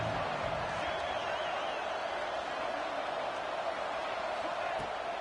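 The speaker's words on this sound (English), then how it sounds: "this crowd is ready." Football stadium crowd at a South Carolina game building before a third down, a continuous loud roar of massed cheering and shouting with steady intensity across the whole stretch.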